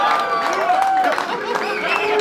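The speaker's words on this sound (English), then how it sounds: "Make some noise for Skolar." A rap battle crowd in South Auckland cheers and whoops loudly in a dense, close roar of voices with scattered clapping throughout.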